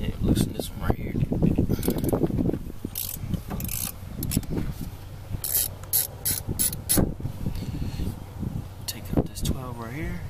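A ratchet with a 12 mm socket loosens an alternator bolt on a Honda Prelude H22 engine, giving quick clicking bursts and pauses, with someone talking over parts of the work.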